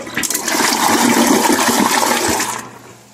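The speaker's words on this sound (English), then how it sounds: "Did you just flush the screw down the toilet?" A toilet flushes up close in a bathroom, a loud rushing swirl of water lasting a few seconds before cutting off, with no voices.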